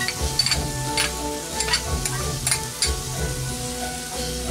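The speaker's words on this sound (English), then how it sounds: "Fry these up for a couple of minutes." Onions fry in a pan for loaded tater tots, a steady close sizzle broken by several scraping stirs, with a brief word of talk near the end.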